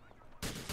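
Gunfire erupts in GTA IV during an LCPD First Response police mod on hardcore mode, loud, dense bursts of shots after a quieter opening, close and harsh.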